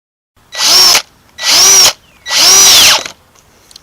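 A power drill driving screws into 2x4 trellis bracing: three loud, close bursts of whining motor, each about half a second long with short pauses between, the last one slowing as it winds down.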